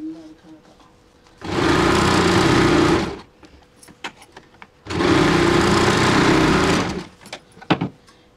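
A sewing machine stitches a half puff sleeve in two steady motor bursts of about two seconds each, loud and close, with small clicks and handling sounds in the pauses between.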